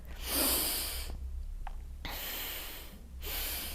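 Heavy breathing in and out during a stretching workout, with a loud exhale at the start, a quieter pause, then another long breath near the end, close to the mic and with no talking.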